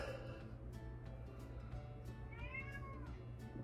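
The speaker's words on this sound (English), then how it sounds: "sorry if you can hear my cat complaining in the background." A cat meows faintly in the background, a few drawn-out complaining cries over a low steady hum, with no one talking.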